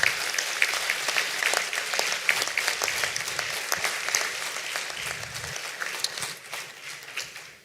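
Sustained applause from a large crowd at the World Archery Congress, steady dense clapping throughout that fades slightly at the end.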